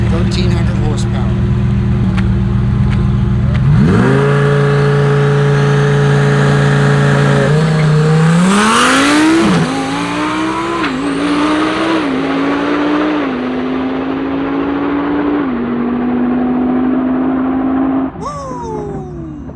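A 1200 hp JoTech twin-turbo Corvette C8 launches down a quarter-mile drag strip, its loud engine note climbing steeply through several gear changes with brief shift dips, while people talk over it nearby.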